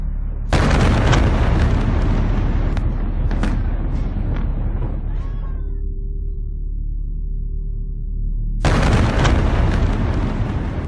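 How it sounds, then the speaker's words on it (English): Russian artillery shelling in Kharkiv, Ukraine, booms in heavy, roaring blasts. A loud rumbling barrage dies into a low hum before another powerful blast erupts near the end. "This is Russian shelling in Ukraine's second largest city, Kharkiv, today"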